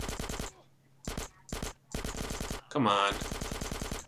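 Gunfire while shooting SWAT officers in GTA San Andreas, dense bursts of automatic shots broken by short pauses and one sharper blast, close and loud, with a brief spoken exclamation.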